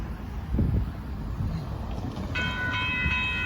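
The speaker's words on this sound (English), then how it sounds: "here comes Southbound Amtrak Texas" Southbound Amtrak Texas Eagle 21 passenger train approaching at Dittmar Road in Austin, Texas, a low rumble building under wind noise, with a steady high horn-like tone or whine joining in the final second.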